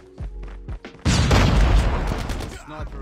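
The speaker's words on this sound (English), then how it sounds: "Toss a little flash grenade." In a COD Mobile match, a flash grenade goes off with a sudden loud burst and a rumbling boom that decays over about two seconds, preceded by a few short thumps and clicks.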